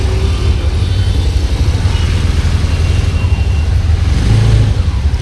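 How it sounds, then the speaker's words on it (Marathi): Road traffic at the entrance to Bhattwadi where a bus comes through, a loud, constant low engine rumble of passing cars and vehicles, close by and without a break. "बस येते तिकडून म्हणून ट्रॅफिक आहे."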